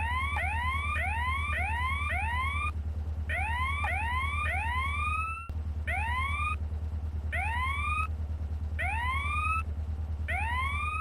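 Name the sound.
police car siren from a video game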